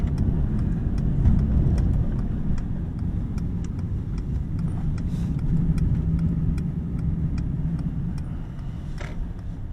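Mercedes-AMG GT63 Pro V8 engine pulling hard on a race track, a steady deep engine roar from inside the car with faint ticking, sustained without talk.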